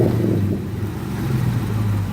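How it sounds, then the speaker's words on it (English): Engine of a manual transmission car being revved while the driver lets off the brake to start on a hill, a close, steady low rumble with a slight dip and rise over about two seconds, with no talking. "Let off the brake, give it a rev."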